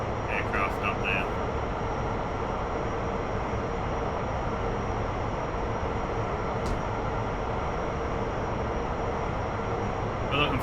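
A T-45 jet trainer climbs at full throttle in a turn, a loud steady broadband engine roar holding constant throughout, close and continuous with no break.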